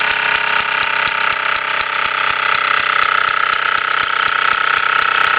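A 1967 Mamod SE2 toy steam engine on a Meccano girder chassis runs steadily on a workbench, with a fast, even mechanical ticking over a constant hissing whir, loud and close, with no talk.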